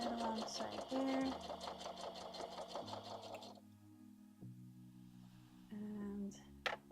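Sewing machine stitching a junk journal for watercolor pencils, a fast rhythmic run of stitches that stops partway and resumes briefly near the end, with a voice talking over and between the bursts.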